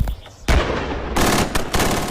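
Automatic weapons firing in bursts during French army training in hills, loud rapid gunfire broken by brief pauses, close and harsh with no voices.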